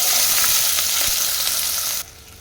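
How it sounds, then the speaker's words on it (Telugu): Onions in a tablespoon of oil sizzle loudly and close in a pan, a steady bright hiss that drops off abruptly near the end. "వన్ టేబుల్ స్పూన్ ఆయిల్ వేసుకోవాలి ఫస్ట్ ఆనియన్ వేయించిన తర్వాత మిక్సీ పట్టుకోవాలి ఆనియన్ వేసేస్తున్నాను"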